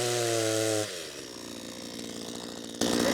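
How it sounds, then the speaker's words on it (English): A chainsaw engine roars loudly, then drops to a lower, rough, sputtering idle, and surges loud again near the end, heard up close with no talking. "how do you start a chainsaw?"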